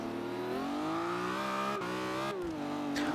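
A car drifting in the racing game Forza Horizon 2, its engine holding a steady, loud, sustained rev that climbs and dips slightly, with a brief break partway through.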